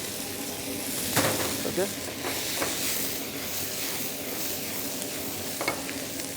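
Fried okra (bhindi) is tipped into a seasoned onion gravy in a hotel kitchen pan and stirred, giving a steady sizzle with scraping spoon strokes, and a short spoken word over it.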